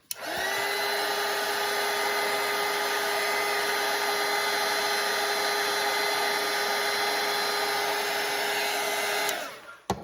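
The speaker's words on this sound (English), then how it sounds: "I have a little dryer here just to kind of speed that up" A hair dryer drying watercolour paint blows in a steady, close whir for several seconds before switching off.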